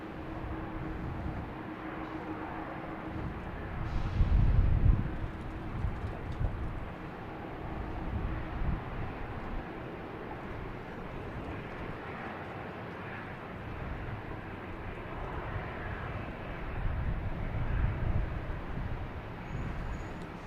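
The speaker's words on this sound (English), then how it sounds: "next taking off is Delta heading to San Diego, flight 571 and A321neo." Delta Airbus A321neo taking off at Boston Logan Airport, a steady broad jet roar heard from a distance for twenty seconds, swelling slightly at times with some wind and ambient noise.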